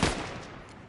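Gunfire from the video game Fortnite: a single sharp, loud blast at the start that rolls off into a short decaying tail, with no voices.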